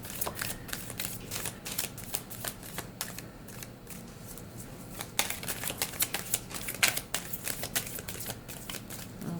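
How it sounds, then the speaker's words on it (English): A tarot card deck is shuffled by hand, a steady run of close, crisp riffling and flicking card sounds in quick uneven bursts throughout, with no talk. "I want one more card for Aquarius from this deck before we move on to our clarifiers."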